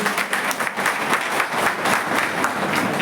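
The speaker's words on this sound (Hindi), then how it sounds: "जोरदार ताली बजा के इनका स्वागत करेंगे" Vigorous applause from a crowd at a Gond and Adivasi community gathering in Rasra, welcoming a guest with steady, close, dense clapping.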